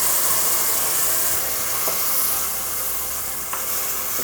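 Chopped tomato sizzles loudly in a lightly oiled pan for a paneer and mushroom Madras, a constant hissing fry with a couple of faint scrapes from stirring.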